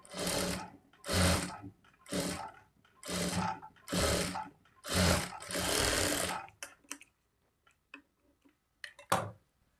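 Sewing machine stitching blouse lining cloth in short bursts, about six runs of rapid mechanical chatter separated by pauses, followed by light clicks and handling sounds and one last brief burst.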